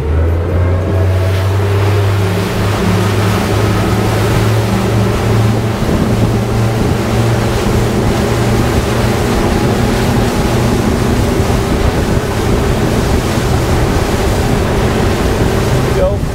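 A Regulator 34 boat at full throttle gives a loud, steady engine roar over rushing wind and water, continuous and close for the whole stretch.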